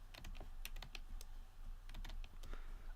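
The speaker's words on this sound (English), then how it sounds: "I keep knocking the keyboard here, I think." Keys on a computer keyboard are struck and knocked in irregular bursts of sharp clicks and taps, fairly close, running for about three seconds with no talking.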